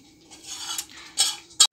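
A few light clinks of cutlery against plates as people settle down to a home dinner. The taps are scattered and close by, the last one sharper than the rest.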